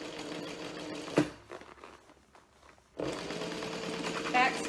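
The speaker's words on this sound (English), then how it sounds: "Back stitch on that center seam." A home sewing machine back stitches the center seam of a fabric bag, whirring in quick bursts that pause near the middle and then pick up again steadily.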